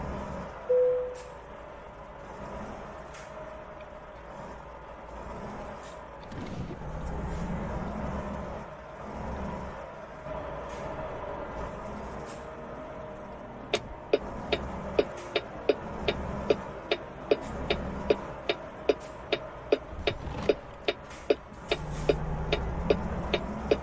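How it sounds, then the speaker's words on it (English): A Mack truck with a Mackinac engine idling and running in American Truck Simulator, a low steady drone under quiet ambience, joined later by a regular ticking like a turn signal. "Mackinac engine sounds good."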